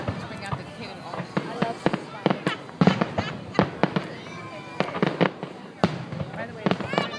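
A rapid run of sharp fireworks bangs and crackling bursts at the 2012 Perth Amboy show, fairly close and steady, with spectators talking throughout.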